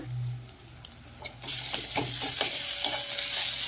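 Browning onions with garlic paste fry in a pan for a Bengali prawn malai curry. After a quiet opening second, a dense, close sizzle bursts in and holds steady with faint stirring ticks.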